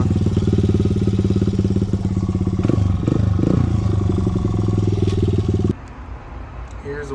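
A Honda XR100 stunt motorcycle engine runs loud and close with a steady, rough low throb and mechanical clatter, one brief surge midway, then cuts to a quieter, thinner tone near the end.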